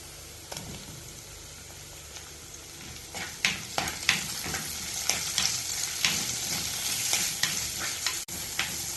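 Onion, ginger, garlic and cut tomato sauté in a pan for egg curry, with a soft continuous sizzle broken by a series of sharp spoon scrapes and clinks against the pan. No one speaks.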